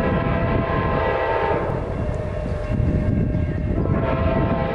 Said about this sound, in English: now we have Amtrak train 97 coming over